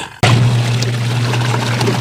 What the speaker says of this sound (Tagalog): Umawas ang tubig.